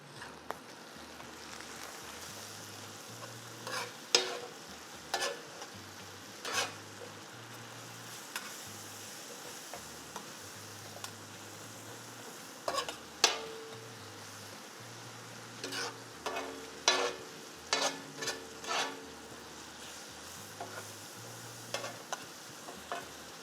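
A keema kebab mixture fries quietly on a pan with a soft continuous sizzle, punctuated by irregular scraping and tapping as a spatula stirs and turns it, close but low in level with no talking.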